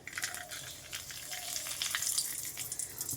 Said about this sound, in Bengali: এর মধ্যে এবার ফোড়নে দিয়ে দেবো 2টো তেজপাতা